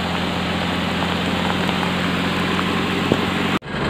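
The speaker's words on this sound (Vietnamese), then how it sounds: "mưa quá trời ơi" Heavy rain pours down on a muddy forest road while a truck hauls acacia wood, a loud, steady roaring hiss with a low engine rumble beneath, cutting off abruptly near the end.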